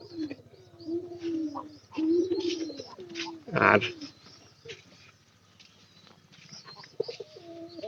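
Domestic pigeons coo softly nearby in a few low, throaty, wavering calls, with a brief sharper rustle midway and someone speaking quietly in between.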